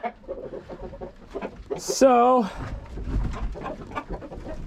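Chickens cluck and squawk inside a farm coop as they gather to roost, with one louder rising call standing out amid scattered clucks, while a person talks quietly over them.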